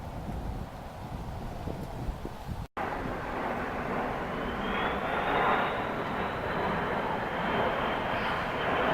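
A large military jet, a C-17 Globemaster, drones past above Amabilis Mountain. Its broad engine roar builds and holds steady under gusting wind noise on the microphone.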